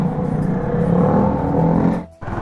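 A loud motorcycle fitted with a modified silencer exhaust roars steadily nearby on a city road, its engine droning and rumbling continuously before briefly cutting out and resuming.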